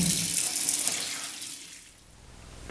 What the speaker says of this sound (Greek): και μετά προσθέτουμε κρύο νερό